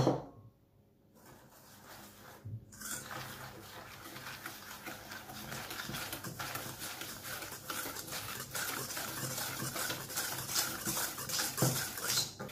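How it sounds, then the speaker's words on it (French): Eggs and sugar are mixed in a bowl for a lemon cake, heard as rapid repeated clinking and scraping of a utensil against the bowl, starting after a quiet pause and growing busier and louder. "vous mélangez vos œufs au sucre, petit à petit"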